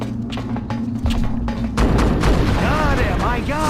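Gunfire and heavy booming blasts from the video game Destroy All Humans! Path of the Furon, loud and dense, building into a sustained barrage with game effects layered over it.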